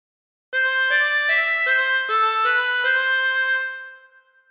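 A harmonica plays a short phrase of Waltzing Matilda, roughly eight notes stepping through the tune at an even pace, close and clear, ending on a held note that fades, with no talking.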